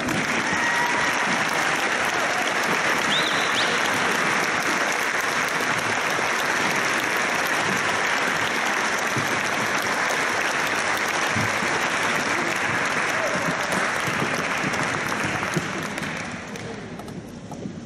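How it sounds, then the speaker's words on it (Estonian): Long, sustained applause from a large audience honoring teachers at a 12th-grade graduation ceremony, loud and even throughout before tapering slightly at the end, with a faint voice underneath. "Veel kord aplodeerida meie õpetajatele."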